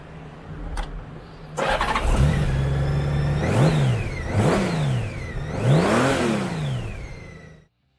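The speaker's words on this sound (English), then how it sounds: "1832cc flat-6 fuel-injected motor with a 5-speed transmission, the Goldwing produces an impressive 123 foot-pounds of torque and 116 horsepower." 2009 Honda GL1800 Goldwing trike with a 1832cc fuel-injected flat-six starts up close by, then revs three times in rising and falling swells before the engine cuts off abruptly.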